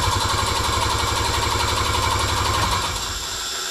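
The engine of a 1980s Harley Davidson Par Car golf cart runs roughly in reverse, a loud, close, uneven chugging idle with rapid pulsing beats that drops off abruptly near the end.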